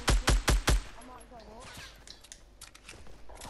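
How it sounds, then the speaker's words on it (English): Four rapid, loud assault rifle shots crack out at the start in Fortnite, followed by fainter clattering, mechanical noises and footsteps, with someone talking over the quieter stretch. "I just shot my AR"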